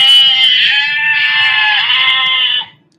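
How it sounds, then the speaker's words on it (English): A single long, loud, quavering sheep bleat close by, wavering in pitch for over two seconds before cutting off, with faint low background noise beneath. "Those sound like sheep to me."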